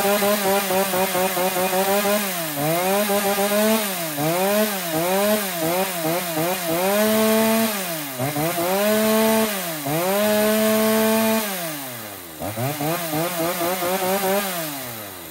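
A used Japanese Ruby chainsaw engine runs loud and close for a long stretch, its pitch rising and falling again and again as the throttle is blipped, with a few brief dips to idle between revs.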